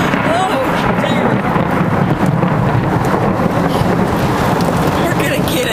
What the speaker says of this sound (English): What's all that damn lightning?